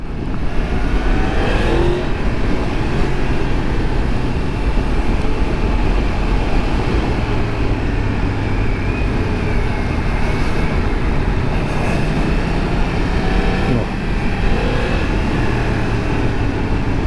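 A 2022 Yamaha MT-10 motorcycle engine roars continuously during a test ride, loud and close, with its pitch rising and falling as the rider accelerates amid heavy wind rush.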